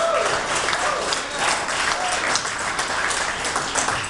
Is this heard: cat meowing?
no